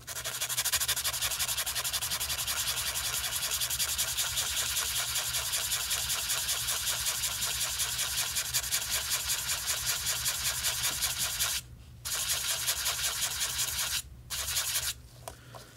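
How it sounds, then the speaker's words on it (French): Fine hand sanding of a filled patch on a wall gives a steady, close, rhythmic scratchy rasp that runs for about twelve seconds, then pauses briefly and resumes in short bursts. "Et donc si on ponce finement"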